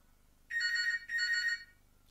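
A telephone rings twice, each ring about half a second of trilling bell tone separated by a short gap, moderately quiet over a low background hum, with no talking.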